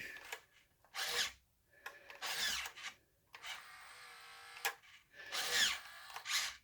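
A worn gearbox motor on a 2003 Taiyo Team Edge Mutator RC car whirs in short bursts, each buzzing for about a second with brief pauses between, close and fairly quiet.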